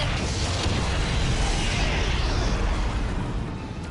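A Power Rangers Dino Charge explosion: a sustained roaring blast fills the clip, a broad rumbling explosion that holds steady before tapering slightly at the end.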